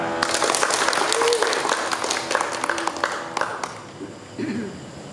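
An audience claps to welcome a priest at the start of a scripture study session, a dense burst of applause that fades after a few seconds as a voice begins speaking.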